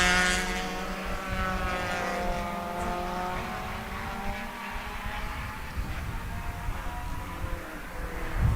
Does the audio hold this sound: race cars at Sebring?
yes